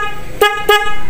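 Two short, loud toots from the horn of a Yamaha Mio Amore scooter, just repaired after a weak-horn ground wire fault, sounding clear and close against a steady background hum.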